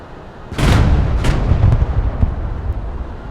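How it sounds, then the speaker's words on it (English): Tank cannons in Broken Arrow fire together: a loud, heavy double boom, one hard blast quickly followed by a second, then a long rolling rumble that fades out slowly with no talking. "All the tanks fired at once."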